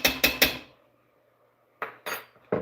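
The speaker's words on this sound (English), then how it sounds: "You have to take your spoon and you have to tap on the pot, on the side of the pot like that." A metal spoon taps the side of a cooking pot of hamburger soup, three quick clanks, a pause, then three more, close and crisp with no talking.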